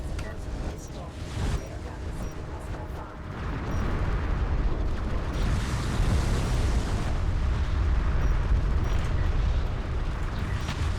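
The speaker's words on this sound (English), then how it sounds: "there's the missile barrage" A missile barrage in a space strategy video game, heard as a sustained, loud rumble of overlapping explosions that swells after a few seconds and holds steady, with a voice talking over it.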